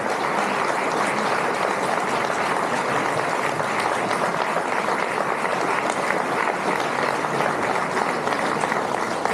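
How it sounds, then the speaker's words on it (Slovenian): Dense, sustained applause from an audience at a commemorative gathering with a partisan choir fills the hall evenly and loudly, close and unbroken for several seconds. "prosim še enkrat en velik aplavz"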